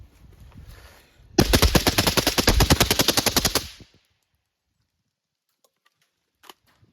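A 300 Blackout rifle fires rapidly with a binary trigger, a close, loud string of evenly spaced shots lasting a couple of seconds before the range falls quiet apart from faint clicks.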